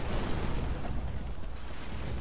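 Explosive gel detonating in Batman: Arkham Asylum, heard as a loud, sustained rumbling blast with crumbling noise that fills the whole stretch without easing.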